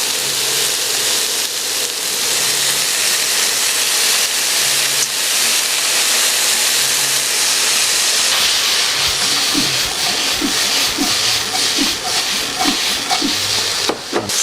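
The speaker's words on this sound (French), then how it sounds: "J'incorpore le poulet, 150 grammes de poulet. Je vais faire frire avec les oignons." Chicken frying with onions, celery and garlic in a wok over fairly high heat gives a loud, constant sizzling hiss up close, broken by clattering and scraping as the food is pushed around.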